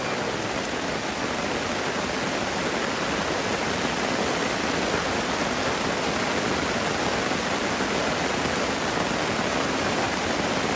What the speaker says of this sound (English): Just when we think the rain can't get any harder, here it comes.